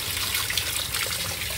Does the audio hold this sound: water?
yes